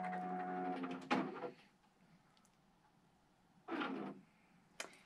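A QCT5 Pro computerized quilting machine moves to pull up the bobbin thread. Two short, close mechanical whirring bursts are separated by a quiet pause, with a faint tonal machine hum at the start and a small click near the end.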